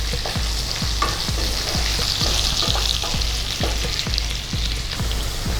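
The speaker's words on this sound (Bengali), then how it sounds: "আলুটা একটু ভাজা ভাজা করে নিয়ে নিচ্ছি" Close, continuous sizzling of long-cut potatoes with salt and green chillies frying in a pan, with evenly spaced spatula scrapes roughly twice a second throughout.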